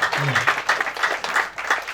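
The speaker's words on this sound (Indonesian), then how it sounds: "Yang terakhir kita tepuk tangan untuk kedua jubir, Bapak Bane dan Bapak Kaisar." Guests at an Indonesian engagement ceremony clap for two spokesmen, a lively, uneven burst of hand claps with a rhythmic, pulsing quality, fairly close and loud, with a voice briefly audible underneath.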